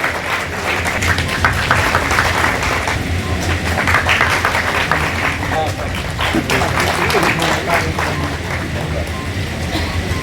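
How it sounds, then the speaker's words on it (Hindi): Applause from an audience at a Bahujan Samaj Party political rally in Bihar, a dense, steady wash of clapping sustained loud and close throughout, with crowd noise and voices mixed in. "ताली में कंजूसी नहीं करी आप लोग।"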